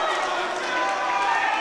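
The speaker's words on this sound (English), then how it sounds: "Uproar from the crowd here." A crowd at a boxing match erupts after a split decision for the European bantamweight title, a dense, loud roar of cheering and shouting that holds for the whole moment.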